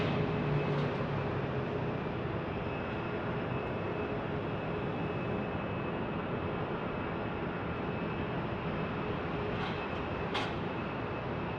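An Airbus A321neo airliner arriving at Phoenix Sky Harbor Airport from JFK gives off a steady, broad roar that holds level throughout, with no voices.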